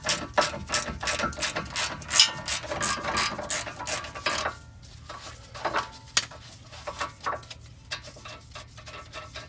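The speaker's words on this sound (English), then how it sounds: "I'll use the ratchet for this one." A ratchet turns bolts on a car's suspension with rapid clicking bursts, loud at first and sparser later, in a quiet garage.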